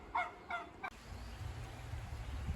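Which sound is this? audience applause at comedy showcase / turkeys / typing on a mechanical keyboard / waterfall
turkeys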